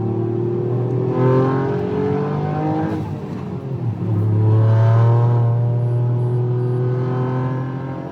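A Toyota GR Yaris 1.6-liter 3-cylinder engine revs hard with a raspy, throaty note, rising and falling twice as the throttle opens and eases, loud and close with no talking, out on snow.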